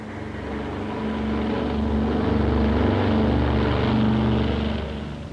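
Transport planes carrying wartime cargo fly the Hump route over the Himalayas, their propeller engines droning in a loud, steady roar that swells and holds throughout with no voices.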